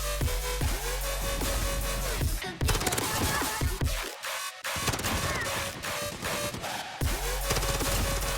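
Rapid automatic M4 rifle fire in Modern Warfare gameplay, dense sustained bursts with a brief pause midway, loud and close over a music bed.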